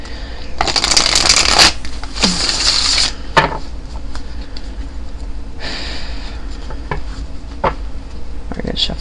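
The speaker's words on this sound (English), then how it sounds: "We're going to shuffle here." Tarot cards riffle-shuffled by hand in a home, with several loud bursts of crisp flapping and riffling separated by quieter tapping and handling, close to the listener.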